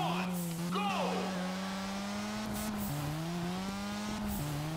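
A car is driven through a timed lap in the racing video game Juiced 2, with a steady engine drone that steps in pitch through shifts, plus a brief tire squeal early on. A voice talks over it.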